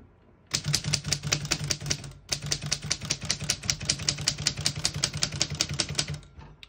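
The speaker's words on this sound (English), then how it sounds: "all the keys type nice and none of them skip or stick" A 1933 Corona 4 Bank portable typewriter types in a steady stream of quick, crisp key strikes close up, with one brief pause before the rapid clacking resumes and runs on to the end.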